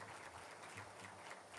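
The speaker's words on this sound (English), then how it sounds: "Another round of applause, please." Audience applause at the opening session of a digital rights and inclusion forum, a steady wash of clapping filling the hall for the whole moment without a break.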